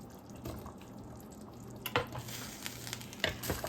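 Carrots go into a sizzling pot of homemade beef stew, a soft, steady frying hiss broken by a few light clinks and splashes.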